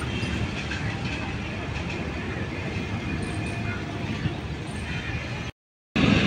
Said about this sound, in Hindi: पाकिस्तान एक्सप्रेस फुल स्पीड में थ्रू पास होते हुए 9050 GU40 लोकोमोटिव लीड करते हुए पाकिस्तान एक्सप्रेस को।